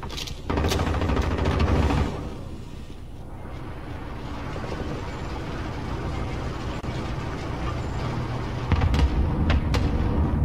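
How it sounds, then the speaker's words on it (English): Explosions in a shooter video game come as heavy booming rumbles, with a loud blast at the start, a sustained roar through the middle, and another strong burst near the end. "There's that many explosions going off around me."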